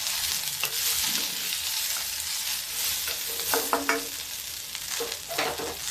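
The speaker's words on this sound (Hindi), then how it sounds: "भिंडी को ऐसे ही भूनते हुए पका लेते हैं।" Okra stir-frying in an iron kadai, a steady loud sizzle with repeated scraping strokes of a spatula against the metal, no voices.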